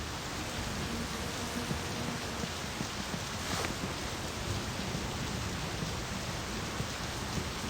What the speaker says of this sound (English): Hopefully that should lower down the sound of the rain substantially.